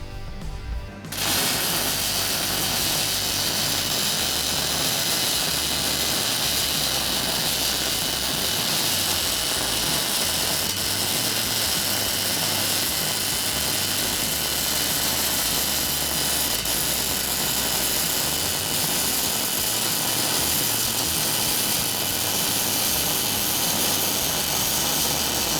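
MIG welding a flat butt weld in steel plate gives a loud, steady crackling hiss that runs unbroken for the whole stretch, with no voice over it.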